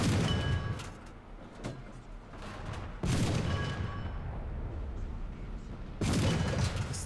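The main gun of a Churchill Mk.I infantry tank fires in War Thunder, with sharp loud blasts at about three-second intervals, each followed by a rumbling decay amid battle noise.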